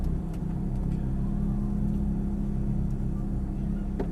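Ferrari F430 engine driving on a racetrack, a steady loud low rumble from inside the car under light throttle, continuous with little change in pitch.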